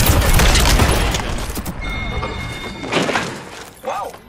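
Loud bursts of video game gunfire, close and heavy, fade into scattered impacts and thuds while a player speaks over the action.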